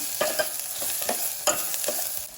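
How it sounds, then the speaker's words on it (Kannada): Onion frying in a pan for jeera rasam, a steady soft sizzle broken by a few light stirring scrapes and taps, close and fairly quiet with no talking. "ಈರುಳ್ಳಿ ಫ್ರೈ ಆಗ್ತಿದ್ದಾಗೆ"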